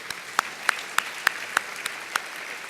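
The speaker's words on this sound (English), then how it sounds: "So I think we owe them a round of applause for the job that they were able to do this year." At an annual dinner, an audience gives sparse, evenly spaced claps, about eight distinct hits at a regular beat, moderately faint and without talk.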